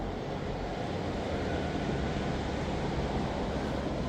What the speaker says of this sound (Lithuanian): Šiandien bangos ir vandenyno garsas daug geresnis.